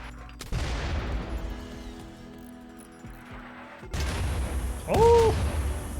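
Heavy gunfire from a large group of snipers during a raid in the colony-building game RimWorld, sounding as loud bursts and booms with a dense cluster of shots and a short whistling tone near the end.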